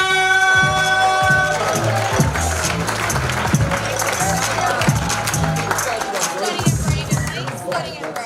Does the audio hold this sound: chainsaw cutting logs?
no